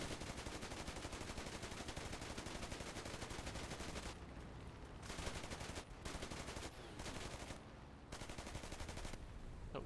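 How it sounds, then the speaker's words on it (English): Machine-gun fire from the rear tail gunners of a Me 410 aircraft in the War Thunder combat game, long rapid continuous bursts broken by short pauses, loud and harsh, with no talking. "The 410's now trying to shoot him with his tail gunners."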